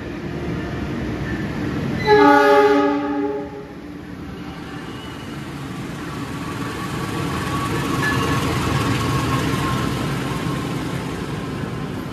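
The Purwojaya executive train from Cilacap to Gambir sounds a loud two-second horn blast near the start, followed by a steady rumble of wheels and carriages rolling past that swells again toward the end.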